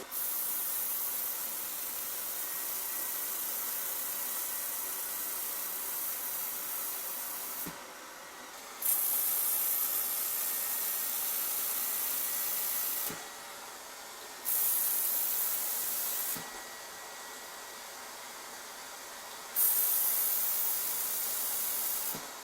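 A laser welder working on metal, a loud constant hissing roar broken by several short pauses where the tone drops, then resumes.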